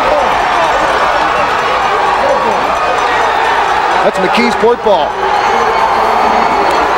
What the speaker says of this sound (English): Listen to this crowd. They're on their feet on the Mckeesport side.